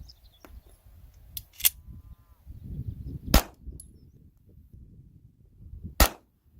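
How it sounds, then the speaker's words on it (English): A soft-shooting pistol fires 147 grain bullets in two sharp, loud shots spaced a few seconds apart, with fainter handling clicks and clatter between them and no talking. "this thing for 147 grain bullets, it just hardly feels like it's even going off in your hands"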